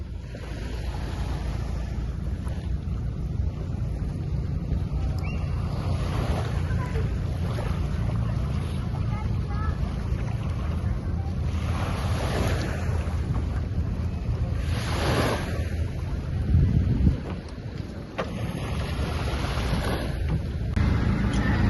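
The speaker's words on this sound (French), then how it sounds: "Voici notre bateau pour la journée" A boat engine drones over wind buffeting the microphone and water splashing against the hull, with occasional gusts and surges, on an island-hopping trip off El Nido.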